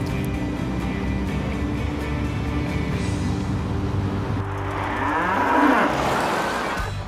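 A cow gives a long, loud moo close by, rising near the end over a low steady rumble of background noise, with no talk.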